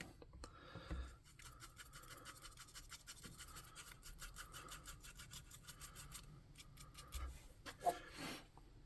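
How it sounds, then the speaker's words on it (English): A plastic bristle brush scrubs paint onto a tabletop gaming model of a turkey monster, making rapid, steady scratchy strokes up close, with brief pauses and a few louder scrapes near the end. "So I have a plastic bristle brush that's going to do nicely for this."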